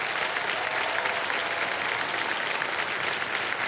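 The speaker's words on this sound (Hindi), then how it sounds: "तालियां बज जाए आस्था जी के लिए।" Dense, continuous studio audience applause for a contestant on the quiz show KBC, steady and even from start to finish without any talk.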